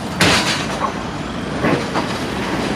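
Heavy road traffic on Hagley Park Road, with trucks and buses rumbling past close by in a steady roar and brief hisses like air brakes, with no talking.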